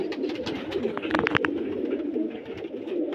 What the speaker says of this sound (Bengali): এই যে পায়রা, অনেক পায়রা আছে দেখতে পাচ্ছেন।